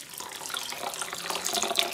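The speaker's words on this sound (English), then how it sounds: "Just pour over some filtered water" Filtered water is poured over oats and millet in a bowl for porridge, a steady bright splashing trickle lasting the whole moment, close and moderately loud.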